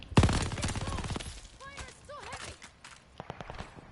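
Rapid bursts of MG42 machine gun fire in Call of Duty Vanguard, loud and close at the start, then scattered shots and battlefield noise with a voice talking over it.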